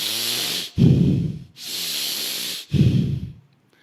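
Forceful, rhythmic bhastrika yoga breaths, a loud hissing exhale then a sharp inhale, repeated twice in a steady cycle, close and with no talking.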